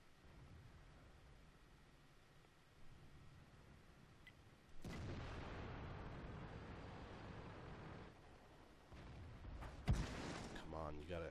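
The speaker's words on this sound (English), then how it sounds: "Enemy has artillery." Artillery fire in a World of Tanks battle: a heavy blast around the five-second mark is followed by a rumbling, noisy roar, with another sharp crack near ten seconds, while a player talks quietly over the faint background.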